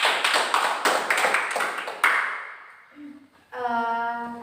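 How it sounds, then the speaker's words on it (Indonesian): Clapping from a group of students at the end of a lesson, a couple of seconds of fairly even claps that fade out before a brief tone. "beri aplaus dulu untuk kita semua"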